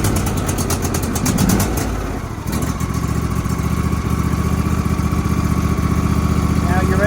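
John Deere D140 lawn tractor engine cranking on full choke, a rapid starter whirr that catches into a loud, steady running idle with a fast, even chug.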